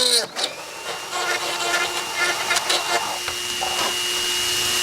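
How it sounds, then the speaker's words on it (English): A drill bores through a pilot hole in a carbon fiber or fiberglass motorcycle windscreen on an FZR restoration, a steady close whine lasting several seconds with brief talk at the start. "Anytime you drill in carbon fiber, fiberglass, drill it with just like I just showed."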